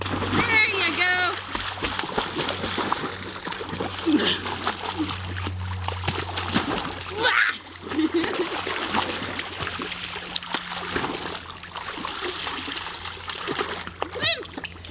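A puppy splashes and paddles in water, with uneven sloshing and splatter close by under frequent excited talk and a voice.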